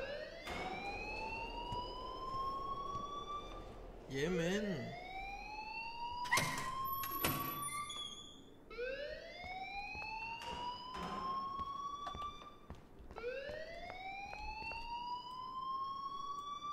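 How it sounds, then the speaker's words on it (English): An alarm in the video game Life is Strange wails in repeated rising siren sweeps, loud and continuous across the scene, with brief clanks and a short spoken line in between. "Please turn off that alarm since that's your job."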